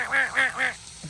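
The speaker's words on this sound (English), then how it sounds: "One of them wood ducks is quacking at the other ones there." Wood ducks quack three times in quick, even succession, loud and close, followed by a brief softer call.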